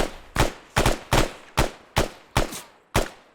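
Arma 3 gunfire, eight evenly spaced sharp rifle shots in quick succession, fairly loud and close with short decaying tails.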